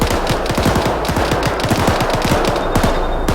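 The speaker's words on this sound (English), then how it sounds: "I got an HMG, I'll try and say it's suppressing fire." A heavy machine gun in Arma 3 lays down suppressing fire, firing a rapid, continuous stream of loud, evenly spaced shots with no talking.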